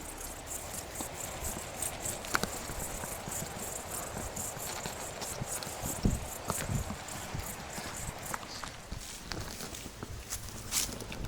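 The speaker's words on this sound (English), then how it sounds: "A donkey or something." Hooves of a donkey clip-clop along a track in European wilderness, a steady uneven patter of steps with light rattles, fairly close and alone without talk.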